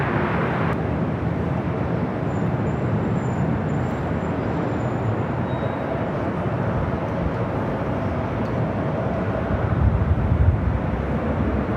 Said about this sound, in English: This is WestJet 1514 coming in from Calgary on the 737-800.